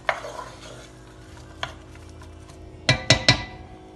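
A wooden spoon stirs a pot of lentil soup, giving a few soft scrapes and then three sharp knocks against the pot near the end, no talk.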